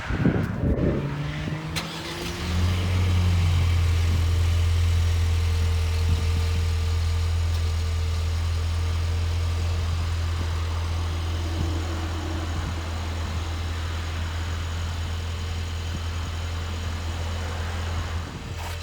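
A 2022 Ford Ranger STX with a 2.3 liter EcoBoost four-cylinder cranks and fires, revs briefly, then settles into a steady, smooth low idle that holds close and even throughout.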